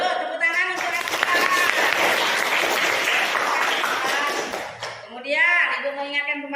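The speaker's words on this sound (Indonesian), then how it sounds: "Yuk, tepuk tangan untuk Asifa." Classroom applause for a pupil, a few seconds of dense, lively clapping from a group of children that stops, followed by a teacher's voice.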